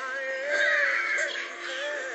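Angry Birds game on an iPad played by a two-year-old gives off continuous cartoon bird squawks and caws, loud and steady, mixed with bright game effects.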